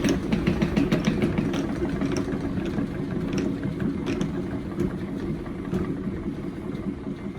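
A honey extractor with a hand-cranked handle spins up to speed during a honey harvest, giving a steady, close, mechanical whirring hum that holds even and continuous throughout with no voices.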